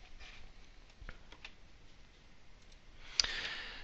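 A single computer mouse click while running a PDF report, a faint brief tick amid quiet room noise, with a few other soft clicks before it.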